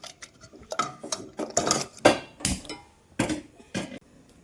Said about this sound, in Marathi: आपण उघडून जरा डाळ घोटून घेऊया, स्मॅश करूया